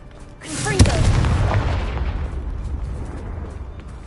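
The Confringo fire spell explodes in the video game Hogwarts Legacy: a sudden loud blast with a sharp crack, followed by a rumbling, fading tail.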